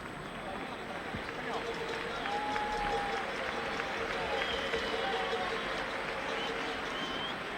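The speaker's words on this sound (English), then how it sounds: "And applause, let it be noted, from the Spanish crowd, not the boos and whistles we get from Wembley." Spanish spectators applaud in a football stadium during a 1980 Spain–England friendly, a broad, distant crowd wash with scattered clapping that swells slightly partway through.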